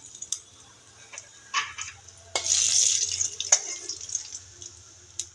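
Whole cumin, cardamom, cinnamon and bay leaf hit hot oil for a fish curry tempering, giving a steady close hiss and crackle with a louder sizzling burst partway through, alone without talk.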